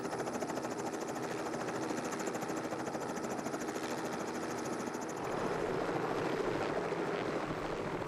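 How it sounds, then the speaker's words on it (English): A crop-spraying heli-tanker helicopter drones steadily overhead with a dense, continuous rotor-and-engine roar. It thickens slightly toward the end, and no voices are heard. "The heli-tanker can work from elevated sites, making application more efficient."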